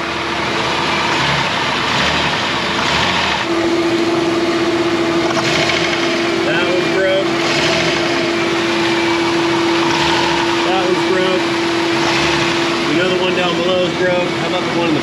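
A worn 2007 Dodge Caravan with a 3.8 engine, a broken axle and broken motor mounts idles and revs in reverse, a steady mechanical drone with a sustained whine, while people talk nearby.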